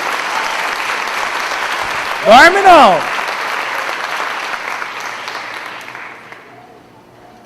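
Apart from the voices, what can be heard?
applause from church congregation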